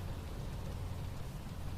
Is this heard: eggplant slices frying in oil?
no